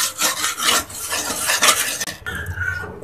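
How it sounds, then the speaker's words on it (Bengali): Spiced salt being stirred and dry-roasted in a pan, with close, loud, rasping scrapes of a spoon dragged through the grains in quick repeated strokes and a faint sizzle beneath. "আমি এটাকে আরও 3 মিনিটের মতো এভাবে ভেজে নিয়েছি"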